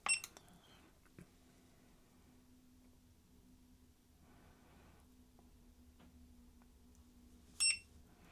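A small electronic buzzer in a hand-soldered DIY circuit gives a short sharp beep at the start and another near the end, with a faint steady hum and quiet handling noises between.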